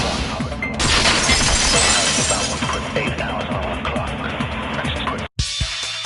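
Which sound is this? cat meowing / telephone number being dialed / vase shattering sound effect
vase shattering sound effect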